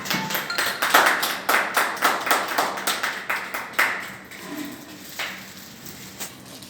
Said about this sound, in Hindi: ताली बजाइए आप। ताली बजाओ।